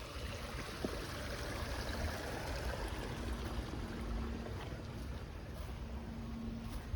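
A creek in a park flows steadily in October with a soft, continuous rushing of water, fairly quiet and even throughout.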